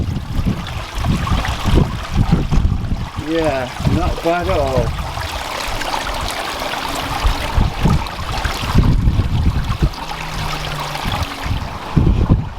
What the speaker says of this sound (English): I've turned on the pump as well as we've got the hose pipe going, feeding water